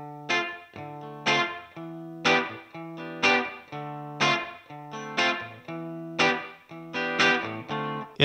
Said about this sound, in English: you throw a little room reverb and all of a sudden it sounds like this.